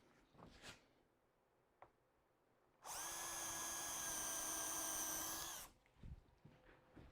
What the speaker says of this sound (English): Now while I've got it there, I'll drill a hole in the end.